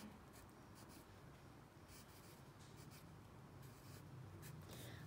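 Pencil scratching across paper as a word is written out by hand, a steady continuous scraping with short bursts of strokes, close and fairly quiet, with no talking.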